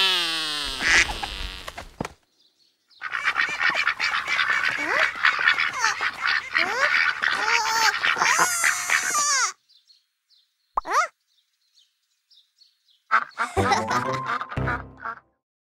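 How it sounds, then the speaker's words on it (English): A loud, dense chorus of birds honking and quacking like ducks and geese, sustained for several seconds, then broken by silence, a lone call, and another noisy burst of squawks near the end. "Pinkerton was only trying to call one bird."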